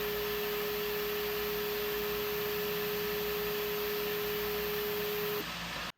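3D printer Z-axis stepper motor driven by a DRV8825 driver, a faint steady whine holding one pitch for about five seconds under a low background hiss, then cutting off abruptly.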